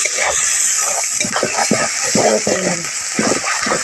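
Taro leaves and meat being stir-fried in a pan, a constant bright sizzle with intermittent scraping and stirring strokes, close and fairly loud with no voices.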